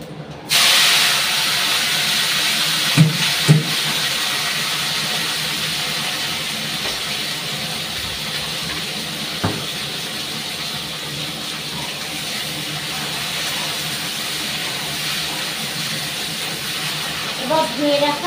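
Cauliflower and other vegetables hit hot oil seasoned with five-spice, producing a loud, steady sizzling hiss that holds almost unchanged throughout, with a few brief knocks and clatters along the way.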